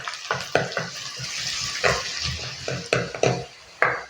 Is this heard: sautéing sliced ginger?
yes